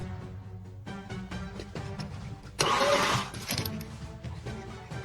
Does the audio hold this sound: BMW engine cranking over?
yes